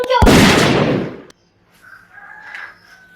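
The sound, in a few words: gunshot sound effect in storytelling performance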